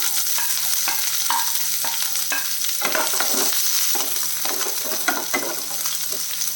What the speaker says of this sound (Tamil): இப்போ வந்து நம்ம பருப்பு சோர்ந்துருச்சு வெங்காயத்தை சேர்த்துடலாம்